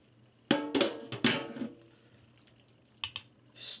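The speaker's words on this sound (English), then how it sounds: "Pour that into your casserole dish." Spaghetti sauce with veggies poured into a casserole dish for baked spaghetti and meatballs: a few wet splats and slops close by, with short pauses between them, over quiet room background.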